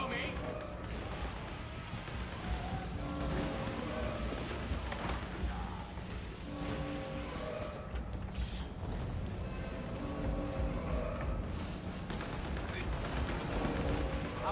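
Video game gunfire rings out in repeated bursts and scattered shots amid dense in-game noise and music, with voices speaking over the action.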